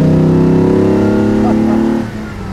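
A 1960 Mercedes 300 SL Roadster engine revs hard and loud up close, a steady rising drone that drops off suddenly near the end.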